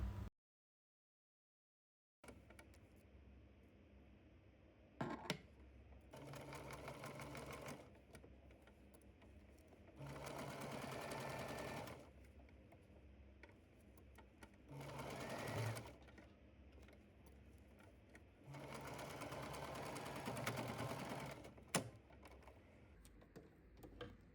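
A sewing machine stitches the pinned seams of a fabric make-up bag in five or six bursts of rapid, rattling stitching, each a few seconds long, separated by short quiet pauses and an occasional click.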